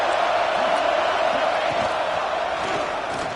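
A college football stadium crowd on a third down against the Broncos, a dense, loud, sustained roar of cheering and yelling that holds steady throughout with no clear break.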